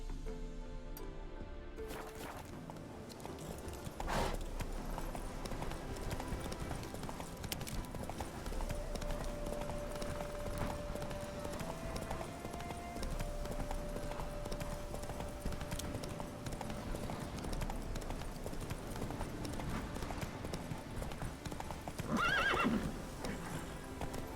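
A horse in The Witcher 3 gallops across open ground with a long run of steady, close clip-clop hoofbeats, then near the end neighs loudly over the pounding of its hooves.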